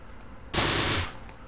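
A burst of machine gun fire from an MG team in the video game Close Combat: The Bloody First, one loud, dense, close rattle lasting about half a second before it cuts off.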